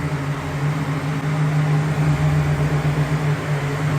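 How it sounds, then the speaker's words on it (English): The cooling fan on a 1966 Pontiac Catalina Wagon spins with a steady, droning whir and low mechanical hum under the running engine, close and constant with no talk over it. "you can hear that the fan definitely works"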